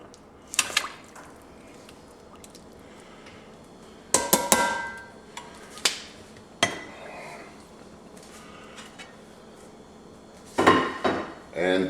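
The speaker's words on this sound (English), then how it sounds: "And now we are going to add our eye of round back to the pot." An eye of round beef roast is set back into a cooking pot, with several sharp metallic clanks and scrapes of pot and utensils spaced out over a quiet kitchen background.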